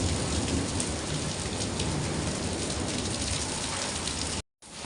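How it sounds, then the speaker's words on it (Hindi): Steady heavy rain with some hail in a mountain village in Uttarakhand, a dense, loud, continuous hiss on surfaces that cuts out briefly near the end. "तो आज बढ़िया बारिश हो गई और थोड़े ओले गिर रहे थे फिर वो बंद हो गए"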